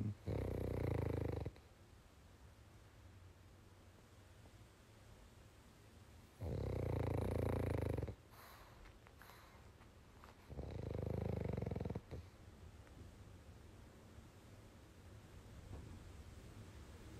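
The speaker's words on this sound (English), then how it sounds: "pugs snoring" Pugs snore in three long, loud bursts several seconds apart in a quiet bedroom with open windows and wind, the breathy rasps standing out against the steady low background.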